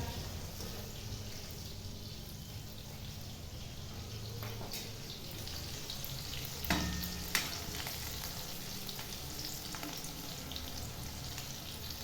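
A steady, close sizzle of chillies frying in hot oil, crackling continuously with a couple of brief louder pops.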